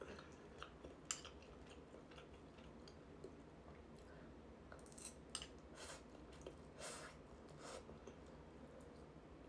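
Close, quiet chewing of japchae with soft wet clicks and crunches, repeating irregularly against a faint steady background.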